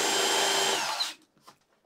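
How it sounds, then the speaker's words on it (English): A power drill pre-drills holes in wood for a removable car seat dog bed, a loud steady whir that runs about a second, then cuts off, leaving faint handling noises. "I'm going to go along and pre-drill all the holes"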